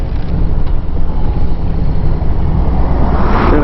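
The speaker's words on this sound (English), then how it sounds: "Look at them big old trucks." Big trucks pass along a rural road, many hauling hay, dirt and gravel for farms, making a steady loud roar of engines and tires with rising wind rush near the end, heard from a bike with no talking.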